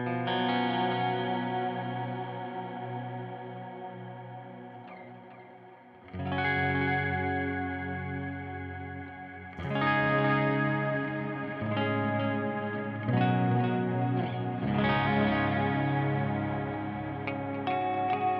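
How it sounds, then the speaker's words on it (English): An electric guitar plays through a Strymon DIG delay pedal in its 12-bit modulated mode, with ambient, reverberant settings. Sustained, shimmering chords are struck every few seconds, and their dense, washy repeats keep ringing into each new strum. "see if we can create some more ambient, reverberant style delays here"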